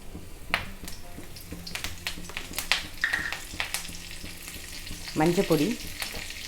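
Mustard seeds and urad dal tempering in hot oil for a tamarind kuzhambu, crackling and popping in sharp scattered bursts with a steady sizzle beneath, close up; a voice speaks briefly over it.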